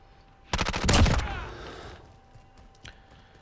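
An MP5 submachine gun firing in Modern Warfare, a quick loud burst of rapid shots with a ringing tail, then a fainter single report afterward.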